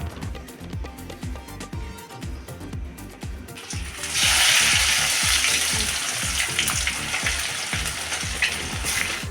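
Breadcrumb-coated egg pieces drop into oil and begin frying, the bubbling swelling into a louder, steady sizzle partway through over a faint rhythmic background pulse.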